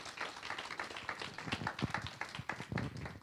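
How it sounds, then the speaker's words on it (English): Scattered clapping from a conference audience at a women in business event, with irregular claps over a background murmur and low voice-like sounds. "Round of applause for Elizabeth."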